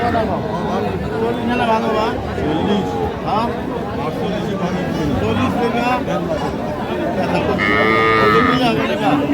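Cattle moo repeatedly at a calf market over a busy crowd of people talking, with a loud drawn-out moo near the end.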